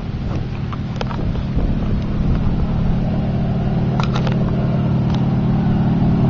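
A warbird aircraft passes very low over Caernarfon airstrip during a touch-and-go, a loud, sustained engine roar mixed with heavy wind buffeting on the microphone.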